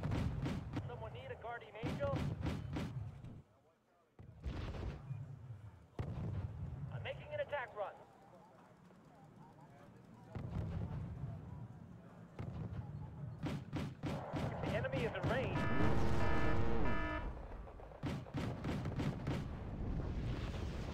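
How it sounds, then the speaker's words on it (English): Mortar artillery fire in the video game Wargame Red Dragon, heavy thuds and rumbling blasts rising in bursts under a player's talk. "My mortars are putting in work trying to hold these things back."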